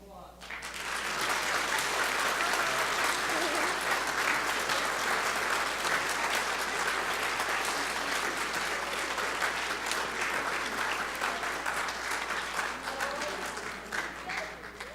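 A church congregation at a family Christmas worship service claps in sustained, dense applause that fills the room evenly for about fifteen seconds and thins slightly toward the end.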